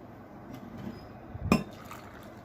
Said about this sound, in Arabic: هنبتدي نجيب ميه نكون غاليينها او من الكاتل